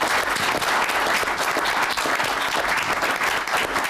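An audience at a council meeting applauds firefighters, steady dense clapping that fills the room at full loudness from start to finish, with no talking over it.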